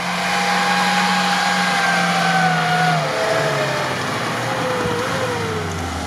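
A Lada Niva revs hard as it accelerates off-road up a sandy slope, its engine note droning loudly and climbing in pitch, then shifting and straining as it continues.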